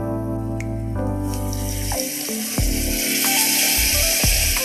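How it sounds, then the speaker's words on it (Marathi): Water is poured into a pan of misal pav masala, a rushing, hissing splash that begins partway through after a tonal background and carries on steadily to the end. "थोडासा पाण्याचा वापर करूया आपण याच्यामध्ये।"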